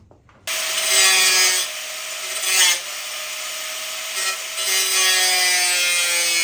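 An angle grinder bites into the metal firewall of a Subaru BRZ during an LS3 swap, starting abruptly and then whining loud and close with a steady, high, gritty screech that shifts slightly as the cut progresses.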